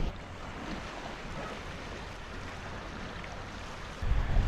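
Steady wind from Storm Bert buffeting a microphone on a Scottish beach, with surf rumbling underneath; a constant roar that swells louder in the final moment, with no voices.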